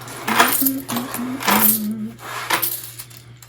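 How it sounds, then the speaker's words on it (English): Coins dropped one after another into a coin holder while cash envelopes are stuffed, giving several bright metallic clinks and short rattles close by, over a low steady hum. "so put these coins in here"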